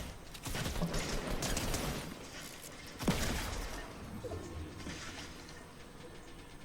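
Gunfire in the Fortnite video game: quiet, rattling bursts of shots with a sharper crack midway, heard faintly and without talk.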